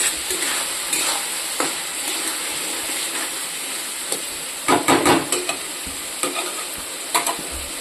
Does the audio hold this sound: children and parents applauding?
no